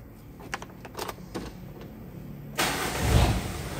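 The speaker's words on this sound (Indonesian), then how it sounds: "saya coba hidupin nih, ya, hidupin mesinnya" A car engine, on a car with starting trouble, is started: a few clicks and faint cranking, then the engine catches and settles into a loud, steady close rumble with a deep low throb.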